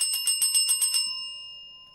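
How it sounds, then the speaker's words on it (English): Bell rings in a quick rhythmic burst of about seven strikes over the first second, then a clear lingering tone fades out alone; fairly close and moderately loud. "it's the bell"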